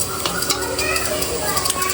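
Oil frying and sizzling in a pan while chicken biryani is cooked, a steady dense crackle with faint stirring and scraping of utensils and some background voices.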